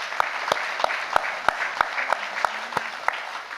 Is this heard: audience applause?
yes